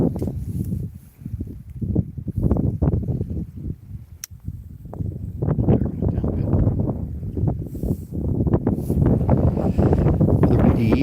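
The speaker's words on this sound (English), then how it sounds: "Another windy evening." Low rumbling gusts of wind buffeting the microphone, rising and falling unevenly, with some faint voices in the background.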